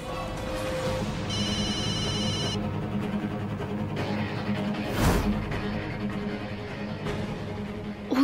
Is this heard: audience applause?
no